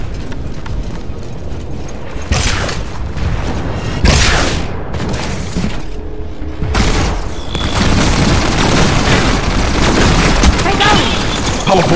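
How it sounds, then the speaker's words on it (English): Rockets fired and exploding in the video game Lemnis Gate boom loudly several times over dense, continuous game noise and music. "shoot some rockets"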